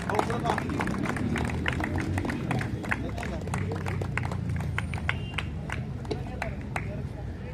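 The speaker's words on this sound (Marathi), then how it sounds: "सर्वांनी टाळ्या करा." An audience at the Chhava Karandak 2025 competition ceremony claps steadily and densely throughout, a sustained crowd applause with a low murmur of chatter beneath.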